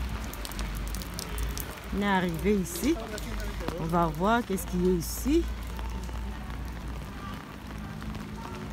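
Rain falls steadily outdoors, a soft continuous patter running under a person who talks for a few seconds in the middle.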